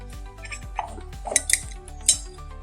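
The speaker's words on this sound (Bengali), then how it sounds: "এরকম একটা চামচের সাহায্যে আমি রসটা বের করে নেব।" A metal spoon scrapes and clinks against a strainer while pressing blended orange pulp, giving irregular close taps and rattles with no talking.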